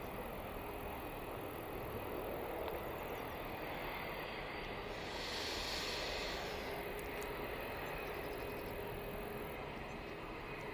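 An airliner in Europcar livery pushes back at Manchester Airport, giving a steady, fairly distant engine roar that swells briefly midway over constant broadband outdoor noise, with no talking.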